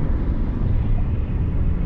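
An engine runs at three-quarter throttle, giving a steady, dense low rumble that holds constant and close throughout, with no voices.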